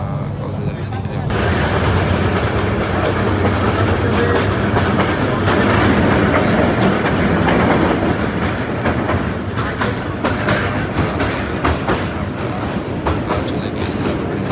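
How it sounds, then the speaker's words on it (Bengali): A passenger train runs on the Dhaka to Cox's Bazar line, its carriages rumbling steadily with a clickety-clack of wheels over rail joints. The sound stays close and loud throughout, with faint voices in the background. "ফার্স্ট টাইম কক্সবাজার ট্রেনে ভ্রমণ করছি।"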